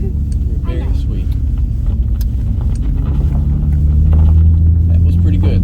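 Nissan G35 with a welded differential drifting, its engine a loud, steady low rumble that swells toward the end, with people talking over it.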